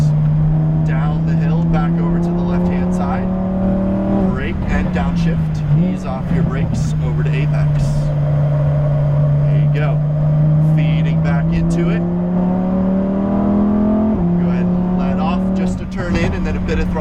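A 2018 Lamborghini Huracan Performante engine droning loud and steady on a race track, its pitch rising and dipping with shifts and throttle changes, with someone talking over it throughout.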